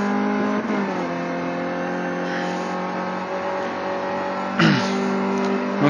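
Race car engine in a racing video game holding a steady, loud droning tone, dipping and climbing again as it accelerates, with a brief surge near the end and no talk.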